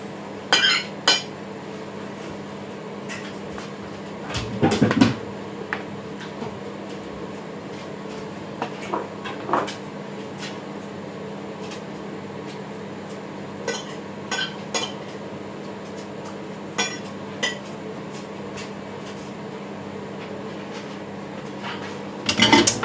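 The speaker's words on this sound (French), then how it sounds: "Les pâtes sont cuites, donc je vais les répartir dans les assiettes pareil." Cooked pasta is served onto plates in a home kitchen, with soft scraping and occasional clinks of utensils against dishes over a low background hum, and no talking.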